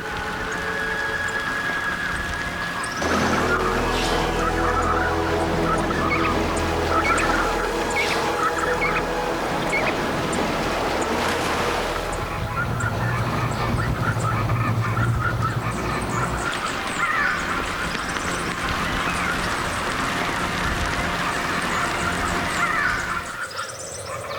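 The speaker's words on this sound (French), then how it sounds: "attirent sur la bande verte du courant de Humboldt une multitude d'oiseaux" A large flock of seabirds gathers over the green band of the Humboldt Current, a dense, continuous din of overlapping honking and cawing calls that stays loud throughout.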